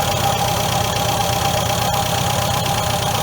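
A 1973 MGB GT engine runs steadily with a loud carburetor, a continuous close-up rumble and hiss that holds an even level throughout with no talking.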